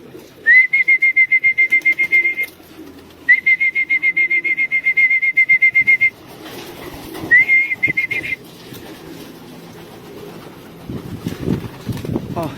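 Racing pigeons return after a 350 km race and come down to land, a shrill repeated whistle sounding in bursts over wind and rustle, with a voice talking faintly underneath.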